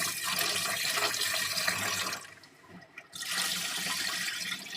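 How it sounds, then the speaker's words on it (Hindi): Rice being rinsed in water in a home kitchen, a steady rushing splash of running water that drops out briefly midway and then returns, close and fairly loud with no talking. "चावल तब तक धोएं तब तक बिल्कुल साफ ना हो जाए"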